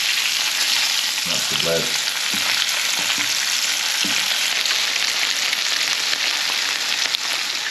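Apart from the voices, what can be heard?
fish fillets frying and sizzling in a pan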